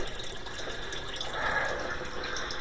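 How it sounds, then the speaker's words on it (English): Water drains steadily from a tank holding freshwater scuds, a continuous gurgling, trickling rush at close range that holds even throughout with no speech. "Now we got to get this water level down."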